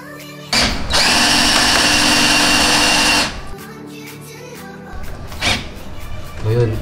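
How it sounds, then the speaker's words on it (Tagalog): A power drill bores holes while Mazda 3 third-generation side skirts are fitted. Up close it gives one loud, steady whine of about three seconds that then cuts off, and people talk around it. "di umiikot yung drill, naipit"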